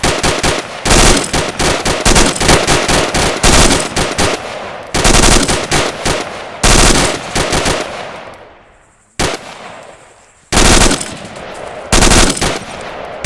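Loud, close bursts of rapid automatic gunfire during a team shooting drill, repeated in dense strings separated by brief pauses, with no talking over it.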